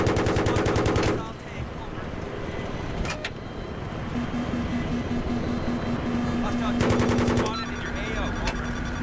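Automatic gunfire in the video game Battlefield 3 comes as two loud, rapid machine-gun bursts, one at the start and one near the end. Between them an engine drones steadily under a voice commenting over the game.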